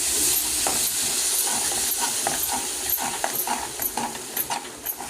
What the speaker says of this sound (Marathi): आता हे मसाल्यामध्ये मिक्स करून घेते